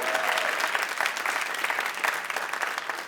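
An audience at a Houston Ballet talk event applauds a ballet soloist with dense, sustained clapping and some cheering throughout.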